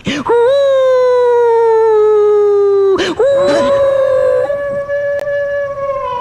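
A dog howls in long, sustained wavering tones, pausing briefly before a second drawn-out howl; loud and clear with no talking.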